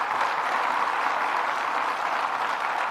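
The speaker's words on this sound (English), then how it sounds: "Let's give them another round of applause." Steady audience applause at a state budget award event in Rochester, a dense, even wash of clapping sustained for the full stretch with no voices breaking through.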